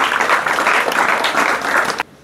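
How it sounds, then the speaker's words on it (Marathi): An audience gives loud, continuous applause to welcome a guest speaker at a school event, and the clapping breaks off abruptly near the end. "सर्वप्रथम आपण जोरदार टाळ्या वाजवून त्यांचं स्वागत करूया"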